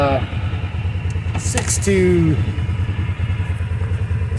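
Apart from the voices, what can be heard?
ATV engine running in snow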